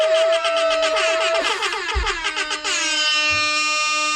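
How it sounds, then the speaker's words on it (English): A loud, blaring air horn sounds continuously, its pitch wavering and warbling, with brief bursts of laughter or voices underneath. "Tickle the air horn."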